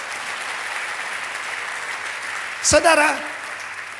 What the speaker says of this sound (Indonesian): Tepuk tangan bagi dia.